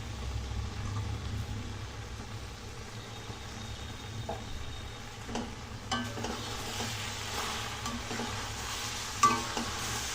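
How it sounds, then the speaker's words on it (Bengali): A spice mix is stirred into a thickening, gently sizzling homemade fruit pickle in a pan, with soft scraping strokes over a low, steady frying hiss, fairly faint and without talk. "তো ভালো করে এটাকে নেড়ে চেড়ে ভালো করে মিশিয়ে নেব"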